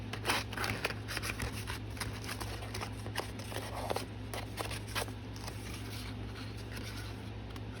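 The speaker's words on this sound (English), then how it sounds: "I'm just going to cut it in half now" Scissors cut a paper card in half with a quick run of small, crisp snips over a steady low room hum, close and fairly quiet.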